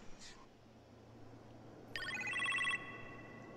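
A phone rings in a kitchen in Marvel's Iron Man VR, a single bright electronic trill of pulsing tones lasting under a second, heard clearly over a quiet room hum.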